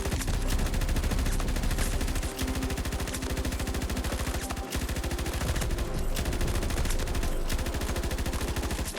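An RPD-31 machine gun in Battlefield 2042 fires long, sustained automatic bursts, a steady rapid rattle of shots with a brief gap midway, loud and continuous.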